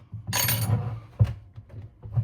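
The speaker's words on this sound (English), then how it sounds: "smacking the edge of the spoon handle against the lid" A few sharp knocks of a spoon handle striking the edge of a jar lid to loosen it, with a scraping rattle early on and short pauses between hits.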